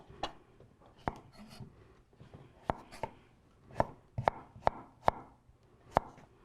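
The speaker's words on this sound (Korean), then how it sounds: "오이 썰어 주시고요" A kitchen knife cuts cucumber on a cutting board in crisp, separate chops with uneven spacing, about a dozen close, sharp knocks against a quiet background.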